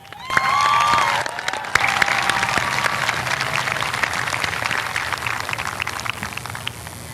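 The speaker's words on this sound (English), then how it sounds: "we must give a round of applause to you," A graduation ceremony audience breaks into steady applause, a broad crackling wash of many hands clapping, with a brief shout or cheer near the start.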